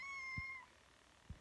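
A domestic cat gives a short meow, faint and indoors, over a quiet background with a few soft thumps.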